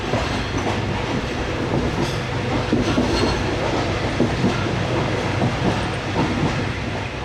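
Fareed Express passenger train running through countryside between Walton and Kasur, a steady loud rumble of wheels on rails with rhythmic clickety-clack and metallic rattling throughout, no voices.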